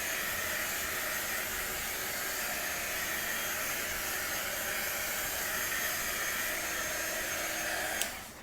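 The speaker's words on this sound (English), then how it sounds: "I'm just going over with my heat wand, my Wonder Wand." A Wonder Wand heat wand blows hot air in a loud, steady rushing stream for about eight seconds and then cuts off abruptly.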